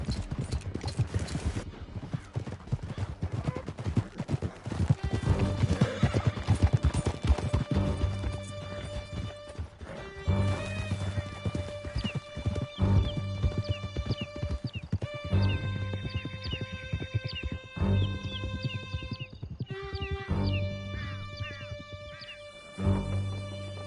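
Horses galloping hard through a canyon in a PS4 video game, with steady pounding hooves and repeated neighs and whinnies over a dramatic music score, continuous and loud.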